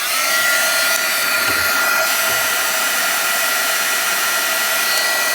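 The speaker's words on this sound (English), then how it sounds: "so bring in my embossing gun" A heat embossing gun blows hot air over embossing powder on a Christmas craft project, a loud, steady whooshing roar that runs unbroken from start to finish with no talk.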